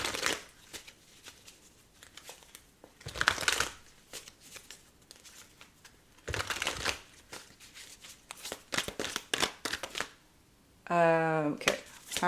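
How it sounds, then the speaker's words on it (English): Tarot cards are shuffled up close in quick papery riffles and bursts, several separate runs of crisp flicking, with a brief voiced sound near the end. "Let's just shuffle that back in for now"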